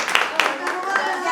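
Sparse clapping starts up in a classroom for a student group, a handful of sharp claps in an uneven rhythm, with voices close by.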